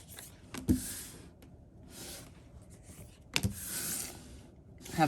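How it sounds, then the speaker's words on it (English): A deck of tarot cards is shuffled at close range, with soft sliding rubs and a few sharp riffling snaps spaced apart. "I'm going to shuffle one more time"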